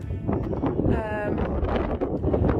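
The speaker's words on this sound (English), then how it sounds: "Wind's a bit breezy and keeping us cool" Breezy wind on an open hillside in the Northumberland and Scottish border hills, a steady broadband rush buffeting the microphone throughout, with a brief tonal whistle in the middle.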